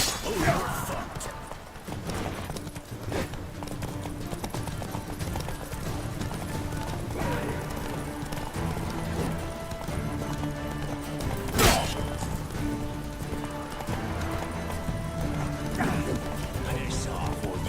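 Roach, the horse in The Witcher 3, gallops with quick clip-clopping hooves amid busy game combat noise, a sharp crash near the middle, and voices talking over it.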